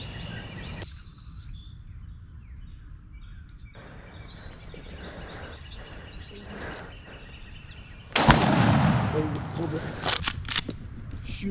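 A single sharp shotgun-style blast during a youth turkey hunt in Ohio woods, sudden and loud after quiet ambience with faint birdsong, followed by brief rustling and low voices nearby.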